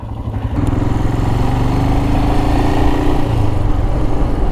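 A motorcycle engine idles close by with a steady low, chugging rumble throughout and slight variation in pitch, and no one speaks.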